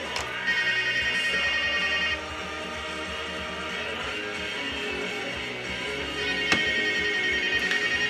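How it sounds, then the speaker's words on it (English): A phone rings with a bright electronic tone in repeated bursts, faint and slightly distant, over a quiet room. "I know the phone's here somewhere."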